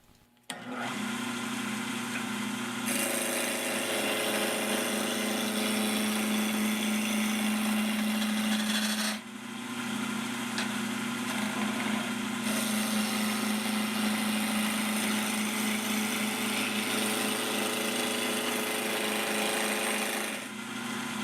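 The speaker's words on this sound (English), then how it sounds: "that's the first pass with the spindle roughing gouge." Wood lathe spinning a spindle blank while a spindle roughing gouge takes the first pass off the corners: steady motor hum with a continuous loud rasping cut, a brief pause near nine seconds, then cutting resumes, no talk.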